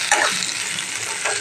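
Onion frying in oil with bay leaf and white cumin in a pan, a steady close sizzle running throughout with a brief stirring scrape near the start.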